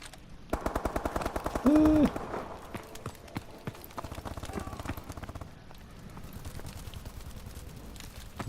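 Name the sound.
gunfire in a video game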